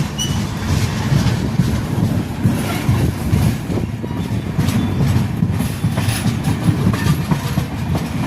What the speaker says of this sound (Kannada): ಇವಾಗ ಉದಗಿರಿ ರೈಲ್ವೆ ಸ್ಟೇಷನ್ನು ಎಂಟ್ರ್ ಆಗ್ತಿದ್ದೀವಿ